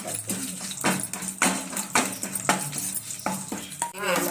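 Onions fry in oil in a pan while a spoon scrapes and stirs them in a steady rhythm of knocks and scrapes, with a soft sizzle underneath.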